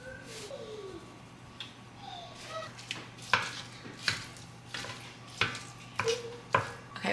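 Ground chicken cooking in a little oil in a pan gives a faint sizzle beneath repeated close scrapes and knocks of a utensil stirring against the pan, with some soft birdlike chirps in the quiet background.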